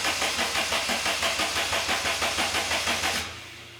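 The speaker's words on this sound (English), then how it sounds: "It cranks. That's good." A Daihatsu Mira car engine cranks with a steady rhythmic starter churn, loud and close, then the cranking stops and the engine settles into a lower, steadier running tone near the end.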